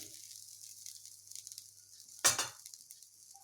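Grated coconut drops into a pan in a home kitchen while making a sweet filling for turmeric-leaf roti, giving one short, soft rustling plop against near silence.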